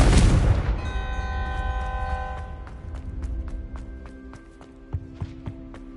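A Confringo explosive spell blast in Hogwarts Legacy on PS5: one loud burst up front, then a ringing tonal shimmer that fades, followed by a few light footstep-like taps.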